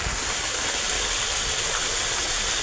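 Rainwater rushes through a drain behind a house during heavy rain, a steady broadband roar of flowing water that stays even and fairly loud throughout, with no voices.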